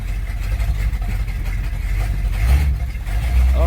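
A 1985 Dodge Ramcharger with a 360 V8 and 727 automatic, said to have a bad motor, rumbles steadily while driving off, its low engine drone loud and continuous with a brief swell near the end.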